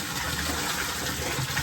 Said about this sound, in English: So I'm going to pour this into the drum now and strain it off.